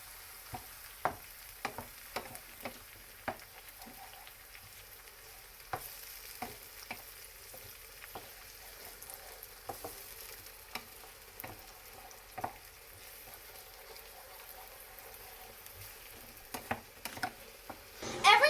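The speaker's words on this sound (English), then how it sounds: "I'm just going to mix up the onions until it's melted." Onions frying in a pan and stirred with a wooden spoon, a faint steady sizzle under irregular soft taps and knocks of the spoon, close and without talk.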